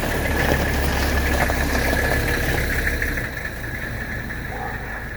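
The diesel engine of a 1982 Mercedes 300SD with 64,000 miles runs steadily with a knocking idle as the car pulls into a garage, close and loud, then the engine note drops partway through.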